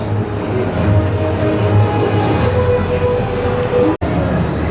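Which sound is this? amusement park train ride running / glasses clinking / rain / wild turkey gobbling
amusement park train ride running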